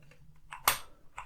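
Keys clack on a 1984 Sinclair QL keyboard as a program is typed in, a few soft taps followed by one louder, sharper press, all close up with no voices.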